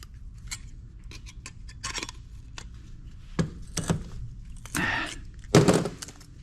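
Snips and clunks from cutting into an older desktop PC's circuit board during scrapping, a few sharp isolated snaps and knocks spaced unevenly, close and fairly loud, with no talking.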